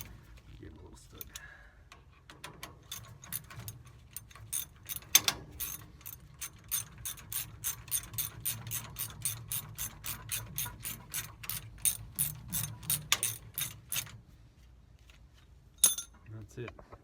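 Hand ratchet snugging bolts during a front disc brake conversion on a 1947-59 Chevrolet GMC truck: close, rapid metallic clicking in steady runs, pausing between turns, with faint low-level talk underneath.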